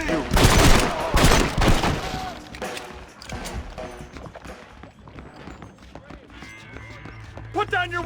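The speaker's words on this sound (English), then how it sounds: "Stop shooting at me!" Gunfire in Red Dead Redemption, a dense volley of shots and rapid fusillade up front easing into scattered reports, with shouting voices and hoofbeats mixed underneath, loud and close.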